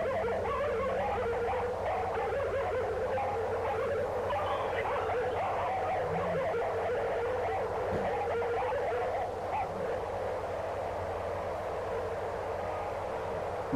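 A dense chorus of many dogs barks and yips continuously, a constant noisy clamor with no pauses.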